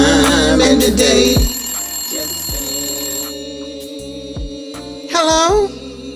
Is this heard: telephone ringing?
yes